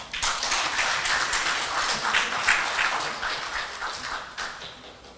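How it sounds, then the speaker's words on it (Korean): A lecture audience at a local council academy in Daegu applauds to welcome a professor to the stage: steady, dense crowd clapping, moderately loud and sustained throughout, with no talking over it. "김병준 교수님을 큰 박수로 모시겠습니다"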